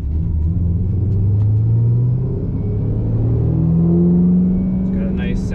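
A 2007 Shelby GT-500 Mustang with an aftermarket short-throw shifter, its engine giving a deep, steady rumble while driving in first gear, with gentle rises in pitch. A person talks over it.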